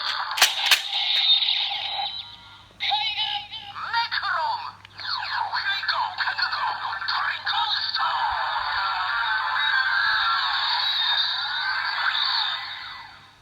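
Kamen Rider Necrom DX Mega Ulorder transformation bracelet with Ghost Eyecon: sharp electronic bursts, then a long run of loud warbling, chirping synthesized tones that fade out at the end.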